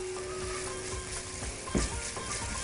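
Onions for carrot mujaddara sizzle quietly in a pan as they sauté and begin to caramelize, a soft, steady frying hiss with one brief clatter.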